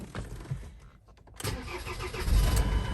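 A Ford Transit van is started with a newly cut key: a brief starter crank, a short pause, then the engine catches and settles into a loud, rumbling idle up close.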